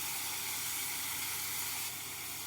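Bottle gourd peel frying in a pan, a steady close hiss and sizzle of oil that holds constant throughout, easing slightly near the end with no voices.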